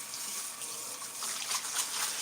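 Water runs from a sink tap in a steady, close, fairly loud hiss and splash as something is rinsed under it, with no voices.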